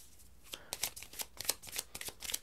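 Tarot cards being shuffled and flicked on a table during a reading, a series of quick crisp riffling bursts at close range, fairly quiet, without talk.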